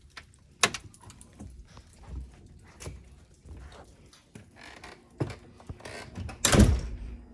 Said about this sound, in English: I can't shut the door.